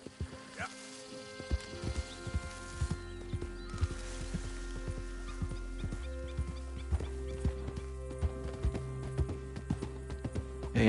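Horse hooves clip-clopping in steady rhythm as a horse moves and jumps across terrain in Red Dead Redemption 2, with game music and ambience underneath and a brief whinny.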